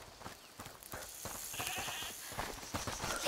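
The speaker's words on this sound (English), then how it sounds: "Is that the goat you talked about?" A goat bleats faintly in the A Plague Tale: Requiem video game, a brief cry partly buried under footsteps and game ambience.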